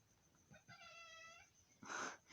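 A jealous pet cat meows in a drawn-out, wavering call lasting about a second, followed by a louder, shorter meow close by, with no one speaking.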